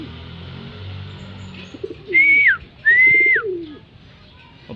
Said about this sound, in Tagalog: Papasukin na natin mga kalapatids.